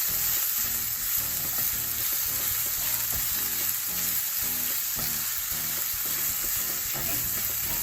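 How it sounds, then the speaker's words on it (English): Onions caramelise in a pan for a jackfruit burger, a dense, constant close sizzle with rhythmic stirring scrapes repeating across the whole stretch, no talking. "Just help caramelise the onions down."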